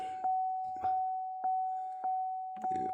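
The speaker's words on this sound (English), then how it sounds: "see if we hear our chime" Key-in warning chime of a 2017 Chevrolet Equinox, a steady tone pulsing at a regular beat, five evenly spaced repeats, clear and close with no talking.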